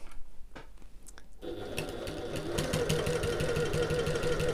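A sewing machine back stitching along the top edge of a backpack seam, running in a fast, steady mechanical chatter after a short pause of handling noise, close and continuous, with no voices.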